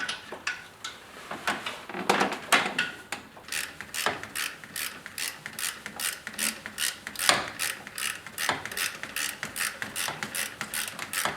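Bolts being started by hand on a 2008 Chevy Colorado alternator, a close run of quick ratchet clicks in rapid bursts, with short pauses between them.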